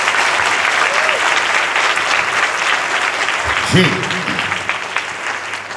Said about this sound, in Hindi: जितने प्रभु के दास यहां बैठे हैं इन सब के लिए एक बार ताली हो जाए